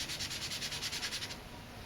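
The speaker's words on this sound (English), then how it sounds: "rub our finger in the graphite over on this page and then bring it over here" A fingertip rubs graphite across drawing paper in quick, even back-and-forth strokes, a soft, close, dry scratching that stops near the end.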